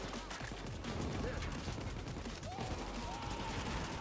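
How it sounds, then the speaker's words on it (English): Gunfire from the Payday 2 video game comes as rapid, overlapping bursts of shots at moderate level, with a constant game din behind them. There is no speech. "I'm gonna shoot that man."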